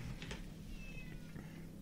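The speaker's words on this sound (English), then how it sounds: "Shut up, cat." A cat meows a couple of times close by during a podcast recording, with steady low room hum underneath.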